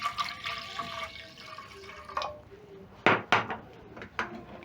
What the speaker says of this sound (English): Once done, I'm going to be adding a little bit more water.